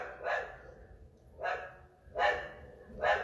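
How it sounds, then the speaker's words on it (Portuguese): A dog barks repeatedly at a moderate distance, four distinct barks spaced roughly a second apart, loud and clear with no voices over them. "Cachorro latindo aqui."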